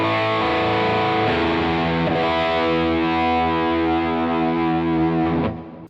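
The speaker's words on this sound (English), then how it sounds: "where it really does sound like a fuzz" Heavily saturated electric guitar through a Beetronics Wannabee dual drive pedal gives a fuzzy, buzzing tone, a few strummed chords sustaining loudly before being cut off near the end, with no voice present.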